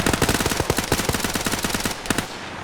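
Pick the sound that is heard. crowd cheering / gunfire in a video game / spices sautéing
gunfire in a video game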